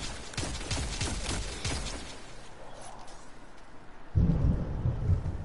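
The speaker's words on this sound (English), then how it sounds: "If you heard lightning, that was on my area." Thunder from a real storm near the Gulf of Mexico coast: cracking rumbles early, a quieter stretch, then a heavy low boom rolling in near the end, with rain-like hiss throughout.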